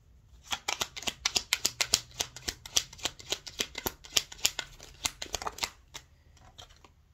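Tarot cards are shuffled close up in rapid, crisp riffles that come as a dense string of sharp snaps and flutters, then slow and fade near the end. No voices are heard.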